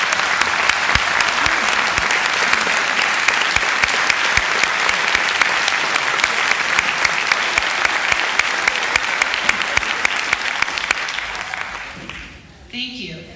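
Sustained audience applause fills a graduation-style ceremony at Las Positas College's Middle College, dense and steady for about twelve seconds before tapering off into a brief pause at the end.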